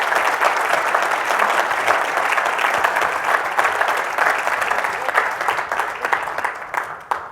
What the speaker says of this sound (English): let's give Kaitlyn and our No Labels panel a terrific round of applause